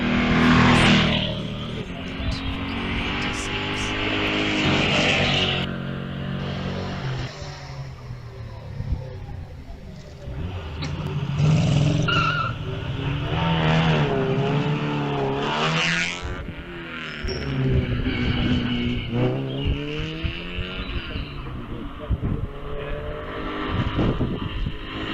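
A vintage racing car at a VSCC event climbs the Wiscombe Park hillclimb course. Its engine roars loudly and close, revving up repeatedly through gear changes over a long, sustained run.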